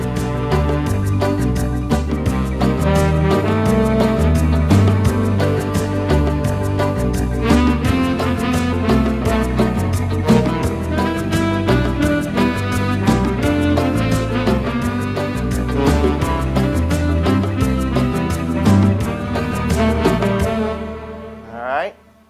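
An organ plays a song in a duet setup, a steady stream of bright, rhythmic chords and melody over a full bass that keeps going for about twenty seconds before cutting off with a short final note; no voices.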